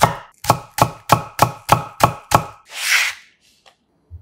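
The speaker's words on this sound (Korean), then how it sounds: "대파 4분의 1개는 반을 갈라 송송 작게 썰어주고" A knife chops halved green onion into small pieces on a cutting board, eight sharp, evenly spaced knocks close up, followed by a brief scraping sweep and quiet.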